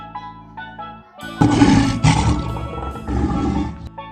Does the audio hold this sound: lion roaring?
yes